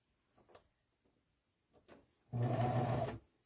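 A sewing machine sews elastic into a bra seam, with a few soft handling taps and then a short loud whirring run of stitching that stops abruptly.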